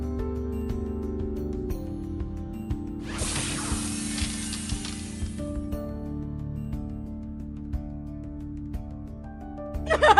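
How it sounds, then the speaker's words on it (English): A cartoon hairspray ray of doom freezes the Power Ponies with a sharp, hissing spray burst lasting about two seconds over sustained music. "the maniac returned with her hairspray ray of doom to freeze the power ponies in place"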